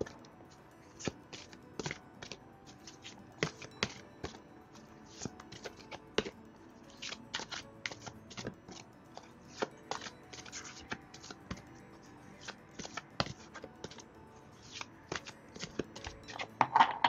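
Oracle cards being shuffled by hand close up, a long run of soft riffling slaps and flicks in irregular bursts, quiet and without speech.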